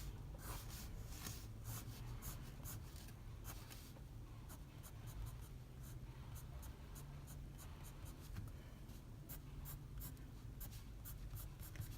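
Dark green colored pencil shading on paper to render a corduroy texture: continuous faint, scratchy strokes with a steady back-and-forth rhythm, close up and alone.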